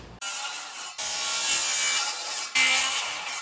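Hand sawing through a live edge wood slab, a steady rasping stroke that runs in three bursts with brief pauses between, close and fairly loud with no talk.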